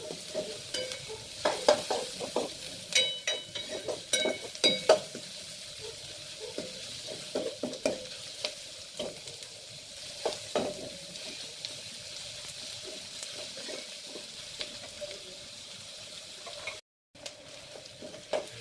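Chopped onions fry in oil in a home kitchen pan with a soft, continuous sizzle. Irregular metallic scrapes and taps from stirring come through, with no talking and a brief drop-out near the end.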